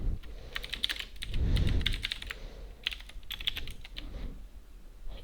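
Code is typed on a computer keyboard in quick irregular bursts of close, crisp key clicks, with a short pause and a low thump in the middle, no voices.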